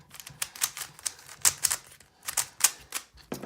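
Qiyi Warrior W speed cube being turned, a quick series of dry, sandy clicking scrapes in uneven bursts, close and fairly quiet with no talking.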